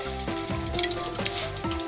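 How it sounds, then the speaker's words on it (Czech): Floured catfish frying in a pan, a dense steady sizzle with crackling spatter, close and continuous, with a faint repeating background tone underneath. "A s obou stran opeču na pánvi."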